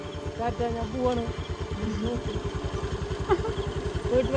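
A scooter pulls up close by, its small engine putting out a quick, regular sputtering pulse that rises and falls, with voices faintly audible alongside.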